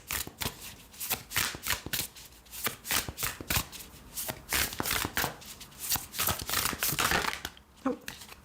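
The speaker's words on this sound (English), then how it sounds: "Let's take 3 cards from this deck to close the reading." A deck of oracle cards is shuffled continuously, giving a rapid run of close, papery riffles and slaps that rise and fall in bursts for several seconds, with a softer handling sound near the end.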